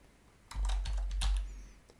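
A computer keyboard clatters in a short quick burst of several keystrokes while a name is typed into a spreadsheet cell, close and crisp with no talk.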